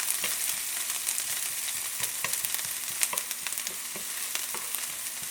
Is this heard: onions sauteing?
yes